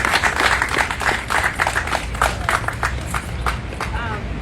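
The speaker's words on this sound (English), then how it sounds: "I think she should be given a round of applause as she comes to the podium." Crowd at a rally for Shanquella Robinson claps steadily and loudly for several seconds, a dense close patter of many hands as a speaker approaches the podium.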